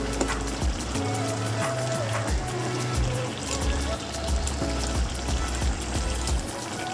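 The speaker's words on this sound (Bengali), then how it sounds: "আর দিয়ে দেবো ঘি।" Ghee goes into a pot of gach pathar kaliya, a Bengali mutton curry, giving a steady close sizzle and bubbling crackle with scattered clinks of a spoon, with no talk over it.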